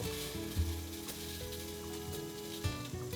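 Food sizzles gently in a hot pan over low heat. The soft, quiet hiss is steady, with a couple of small clinks and stirring bumps and no talking.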